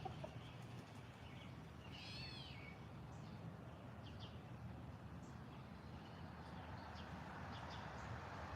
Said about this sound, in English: He heard that bird and was like, what is that?